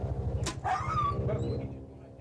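Stray dogs running loose are barked at and yip a few times while police try to catch them, with brief dog calls over a low rumbling background and some voices.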